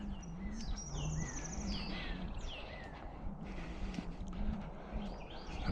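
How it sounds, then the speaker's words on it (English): Birds sing and chirp with quick, high whistled phrases over a soft, steady outdoor background, several calls overlapping at moderate distance. "The birds are singing this morning."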